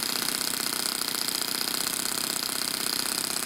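A single-cylinder four-stroke overhead-cam engine fitted in an RC car idles low and steady, a dense continuous mechanical chatter held close and loud throughout with no break.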